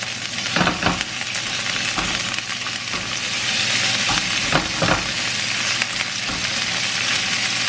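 Lean ground beef sizzling and frying in a pan for Ma Po tofu, a steady close hiss with occasional stirring scrapes, no talking.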